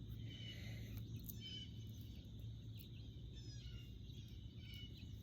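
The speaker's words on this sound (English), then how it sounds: "you can hear the birds" Faint bird chirps and calls come from a distance across a lake over a steady low outdoor hum, with a few brief, sharper tweets scattered throughout.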